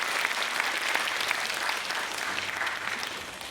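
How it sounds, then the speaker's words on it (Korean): Sustained audience applause at a humanities lecture in Jangheung, Korea: a continuous, even wash of many hands clapping that tapers slightly at the end. "큰 박수 부탁드립니다"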